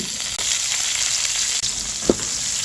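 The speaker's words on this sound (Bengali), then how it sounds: "পেঁয়াজটাকে একটু ভেজে নেব" Chopped onion fries in oil with cumin, bay leaf, cinnamon, cardamom and green chilies in a village-style kitchen, sizzling loudly and steadily up close with a couple of brief stir clatters.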